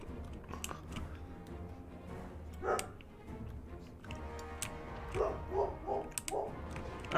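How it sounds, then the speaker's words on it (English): A dog barks outside in a few short bursts, mid-level and somewhat distant, under the steady background of a Total War Warhammer battle. "I apologize about the barking."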